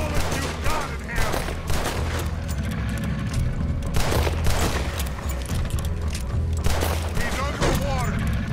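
Gunfire in Red Dead Redemption 2 during a fight with a creature in the water: dense bursts of shots and booms repeating over a loud, continuous mix, with voices talking through it.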